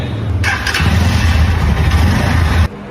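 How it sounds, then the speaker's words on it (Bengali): Lifan KPro 165 motorcycle starts up with a short starter whir, then settles into a loud, close, steady idle rumble that cuts off abruptly near the end. "আপনাদেরকে একটু বাইকটা স্টার্ট দিয়ে সাউন্ডটা শোনাই"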